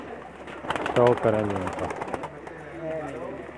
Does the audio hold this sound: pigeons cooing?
yes